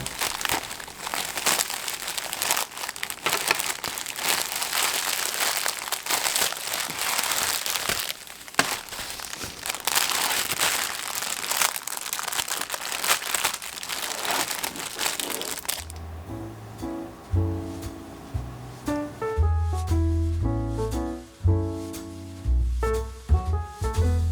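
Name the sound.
opening a package of newly manufactured keychains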